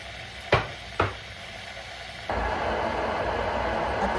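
Shrimp sautéing in a little olive oil for sinigang na hipon, a steady broadband sizzle starting abruptly after two sharp knocks, then holding even and close for the rest.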